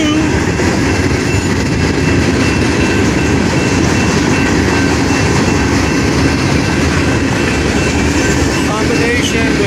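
A long freight train hauling mixed freight, fuel and chemical cars rolls steadily past on the rails at Caliente, Nevada, a continuous loud rumble with clattering wheels throughout.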